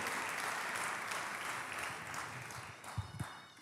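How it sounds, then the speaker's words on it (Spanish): A church congregation applauds in a steady, somewhat distant wash of clapping that slowly thins, ending in a couple of low thumps. "Vamos, a aplaudir con alegría"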